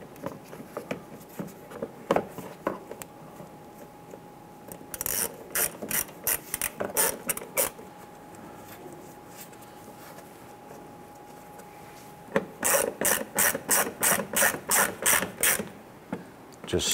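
A ratchet clicks in quick bursts as Torx head screws are driven into an AC compressor on a 2008-2013 Nissan Rogue, with quieter handling noise and pauses between the runs of clicks.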